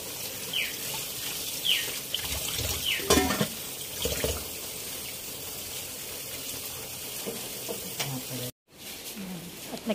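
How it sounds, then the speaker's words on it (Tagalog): Running water splashes steadily as freshly caught fish are rinsed by hand to wash off the remaining scales, with brief louder gushes and a short dropout near the end. "tuhugasan ng iilan para po matanggal yung iba pang mga kaliskis"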